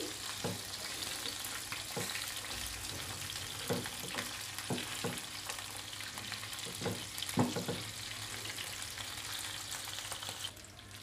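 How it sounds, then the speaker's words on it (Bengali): Pomfret fish frying in oil over medium heat gives a steady, moderate sizzle with a few sharp pops and crackles, no talking. "চুলার আঁচটা মাঝারিতে রেখে আমি মাছগুলো ফ্রাই করে নিব"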